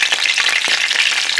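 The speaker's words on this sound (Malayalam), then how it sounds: "ഇത് മീഡിയം ഫ്ലെയിമിലാണ് ഞാനിപ്പോൾ ഇത് വറക്കുന്നത്" Brinjal pieces shallow-fry in coconut oil over a medium flame, a loud, dense and continuous sizzle with faint crackles running through it.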